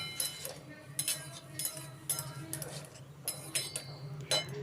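A utensil stirs a potato mixture with coriander and cumin powder in a pan, making quiet, repeated clinks and scrapes in an uneven rhythm.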